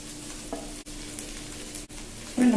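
Onions fry with boiled potatoes in a pan, a steady close sizzle with light stirring, then a louder rustling burst near the end as the mix is turned over.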